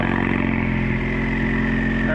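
A Ford Mustang with its active exhaust valve deleted is remote started, its engine running as a loud, steady low rumble with no pause throughout.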